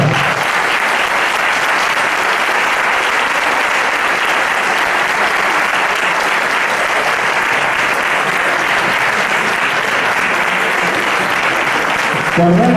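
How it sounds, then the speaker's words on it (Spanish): A crowd at a gathering breaks into loud, dense applause that holds evenly for several seconds before fading at the end. "Y nuestro aplauso, que ese es para todos."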